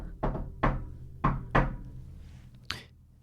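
Four heavy knocks land on a door in an uneven rhythm, close and solid, followed after a pause by a single sharper rap.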